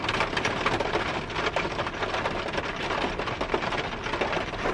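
Steady summer rain falling outdoors, a dense, loud, even patter with no breaks and no talk.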